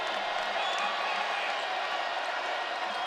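Fans at a Virginia Tech versus Notre Dame women's college basketball game cheer in a steady, broad crowd roar that fills the arena, with a commentator's voice running underneath.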